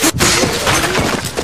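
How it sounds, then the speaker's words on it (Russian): A grenade goes off in the shooter game Run and Fire, a loud, close, crashing burst that fills the whole moment and fades slightly, with no speech. "бросаю гранату. Граната."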